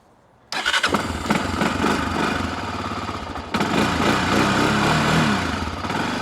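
An old ATV engine with the choke on catches after six years of sitting, bursting into a loud, steady running roar that swells louder partway through as it's revved, with no talk.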